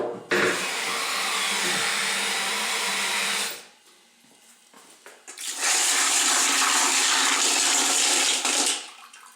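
Running water rinses thick slurry off partially tumbled Petoskey stones, a loud steady rushing spray that cuts out briefly with faint clinks before resuming strongly and then stopping.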